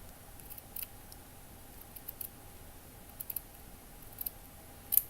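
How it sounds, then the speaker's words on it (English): Scissors snip through fabric while a small rug piece for a bedroom build is cut, making a few faint, scattered crisp clicks with long quiet gaps and a slightly louder snip near the end. "I'm just cutting in between this fabric here."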